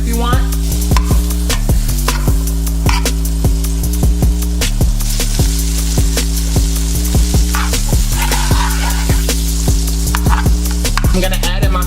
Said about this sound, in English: You're going to add some butter to it.